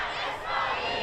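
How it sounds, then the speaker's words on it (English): Crowds in the streets of Tehran: a dense mass of voices shouting and chanting together, a brief continuous roar of outdoor protest. "Crowds flooded the streets."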